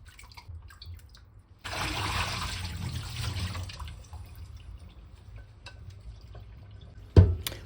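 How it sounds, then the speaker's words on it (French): Tomatoes, onions and chili peppers are washed in water: a sudden rush of running, splashing water for a couple of seconds, then quieter drips and sloshing, ending with a sharp knock. "Je viens maintenant laver mes tomates, oignons et piments."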